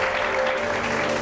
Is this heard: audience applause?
yes